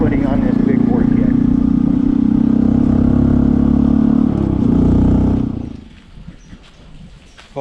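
A Honda CT125 motorcycle fitted with a 142cc big bore kit runs with a steady, loud engine drone while riding, then the engine note drops away to quiet near the end.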